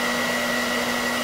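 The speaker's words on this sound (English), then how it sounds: "notice it's just a normal off the shelf hairdryer" An ordinary off-the-shelf hair dryer heating a Surface Book screen for removal blows steadily, a loud constant whir with a fixed motor hum, running without pause.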